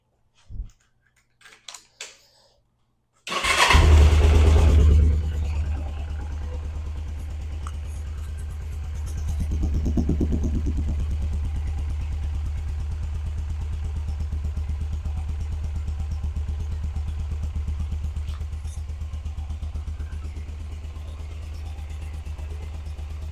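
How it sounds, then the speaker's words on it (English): A few faint clicks, then a motorcycle engine cranks and fires, revs briefly, and settles into a steady, rumbling idle with a slight bump in revs. "So we'll do a cold start right now. I'll start it up. Bike starts right up."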